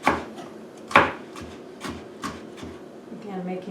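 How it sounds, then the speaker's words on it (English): A knife slicing vegetables lengthwise into thin strips on a wooden board, a steady series of crisp cuts and knocks, about seven strokes at an even rhythm, close up, with a faint scraping at the end. "And then he is going to continue to cut them even more thin"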